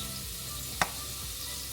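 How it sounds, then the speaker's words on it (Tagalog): Potatoes fry in a pan with a steady, continuous sizzle and a single short clink partway through, with no talking. "piniprito ko lang muna yung patatas."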